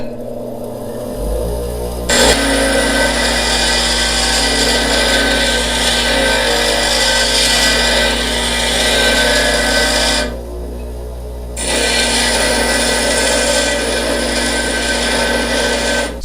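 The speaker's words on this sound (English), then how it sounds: "Basically we're just going to grind material off of this knife." A heavy custom molding knife is ground down on a power grinder, producing a loud, continuous abrasive whine that runs steadily, cuts out briefly near the end, then resumes with no talking.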